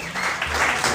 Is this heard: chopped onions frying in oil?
no